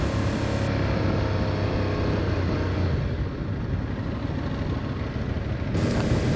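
A motorcycle cruises along Highway 362 near a golf course toward La Malbaie, its engine a continuous broadband drone mixed with heavy wind rush, steady and loud throughout.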